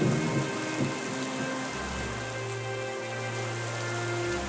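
Heavy rain pours down steadily across a village, a dense continuous hiss with a low rumbling undertone that may be distant thunder, with no voices.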